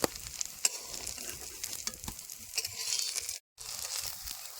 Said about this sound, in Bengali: বাকি মাছগুলো এরকম লাল করে কিন্তু ভাজে নেবো